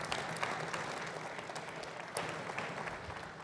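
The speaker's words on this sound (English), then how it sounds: "Let's give the Annex Group a round of applause for this." An outdoor audience applauds at a groundbreaking ceremony for a campus commons and parking garage: a dense, even patter of clapping that holds steady from start to finish, heard from a distance and fairly faint.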